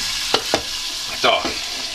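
Vegetarian lunch food frying in a pan, with a steady close sizzle and a few short stirring scrapes, no voices.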